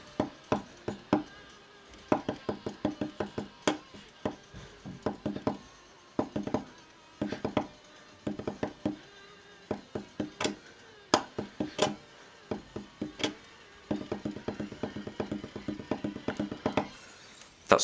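Taps land in quick rhythmic bursts and runs on a touchscreen while the final section of No One Knows is played on Extreme difficulty in the rhythm game Beatstar, close and fairly quiet with short pauses between phrases.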